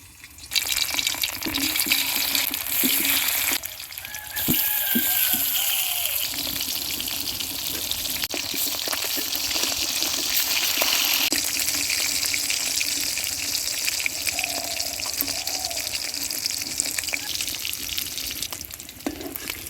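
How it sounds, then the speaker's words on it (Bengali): Fish sizzles steadily in hot oil in a kadai over a new stove, a continuous frying hiss carrying through the whole stretch with occasional clinks and faint background noises, no one speaking. "তেল গরম হয়ে গেছে এবার মাছ দিয়ে দেব"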